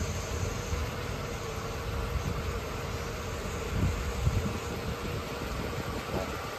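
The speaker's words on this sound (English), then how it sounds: "we can hear more of the cicadas flying around than we can of the car running" Cicadas drone in a steady, dense buzz that stays even throughout, nearly covering a 1984 Mercedes 380 SL idling nearby, whose engine sits low and faint beneath the insects.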